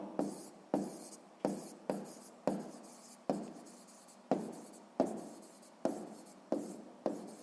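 Pen strokes on paper while working a sixth-grade maths exercise, a dozen or so brisk scratching bursts in a steady rhythm, each fading quickly, close up with no talking.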